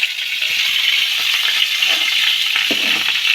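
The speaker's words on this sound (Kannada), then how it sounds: "ಹಂಚು ಕಾದಕ್ಕೆಲ್ಲ ಅದಕ್ಕೆ ಅದು ಸಿಡಿ ಹಾಕತೈತಿ." Oil sputters and hisses on a hot paddu pan, a steady bright sizzle with small scattered crackles and pops throughout, close and moderately loud.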